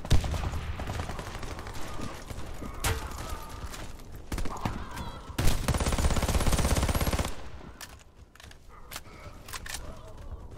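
A new weapon fires in the shooter Warface on Xbox One S: repeated rapid bursts of automatic fire with a sustained, loud volley in the middle, then quieter scattered shots and game noise.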